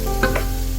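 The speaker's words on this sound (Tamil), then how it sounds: "இப்போ நம்ம எடுத்து வச்ச எல்லா வெஜிடபிள்ஸையும் போட்டு வதக்கிட்டுருக்கோம்" Vegetables and paneer sautéing in a pan, a brief close burst of steady sizzling with a couple of quick stirring scrapes.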